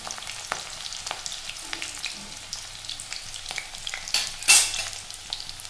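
Steady sizzling of onion and green chilies frying in hot oil, with scattered crackles and pops and a louder hissing burst near the end.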